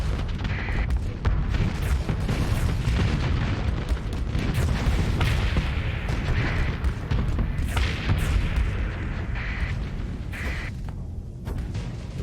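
Strike cannons fire in the space combat game Starsector, a dense run of booming shots and bursts that keeps going steadily for the whole stretch with no pause.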